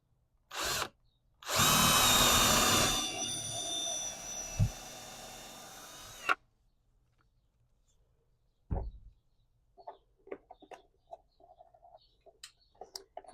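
A power drill drives a screw into wood inside a cargo trailer camper conversion, whirring in a short burst, then a longer sustained run, followed by quiet with faint ticking and tapping sounds.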